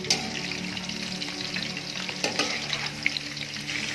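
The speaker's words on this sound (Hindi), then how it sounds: "व्यूअर्स देखिए माशाल्लाह से चिकन कितना ज़बरदस्त फ्राई हो रहा है" Chicken pieces frying in oil for Mongolian chicken, a steady close sizzle with crackling pops and a few louder spits, no talk.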